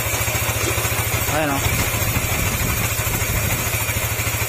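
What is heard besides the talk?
Yamaha NMAX155 scooter engine idling with ticking noise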